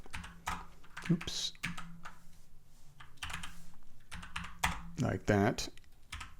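Someone types code on a computer keyboard, giving scattered key clicks and short bursts of tapping while a person talks briefly over them at close range.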